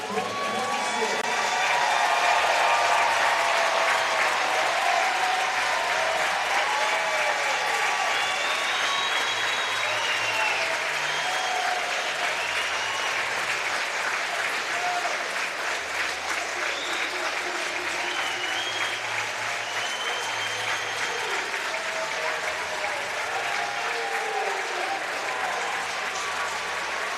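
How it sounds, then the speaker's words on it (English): Audience applause for the class of 2026 at a college swimming and diving championship in an indoor pool, long sustained clapping mixed with cheers and whoops from a large, echoing crowd. "a round of applause for the class of 2026"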